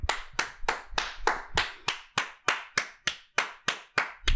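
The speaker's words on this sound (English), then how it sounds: "A round of applause for Kristen for ordering too many things on" Rhythmic clapping, about a dozen evenly spaced sharp claps, close and distinct, like a few hands rather than a crowd.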